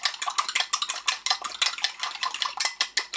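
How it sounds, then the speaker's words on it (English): An egg whisked briskly in a bowl, a fork or whisk clicking rapidly against the sides in a steady, close, continuous rhythm of light metallic taps, with no talking. "just whisk an egg up"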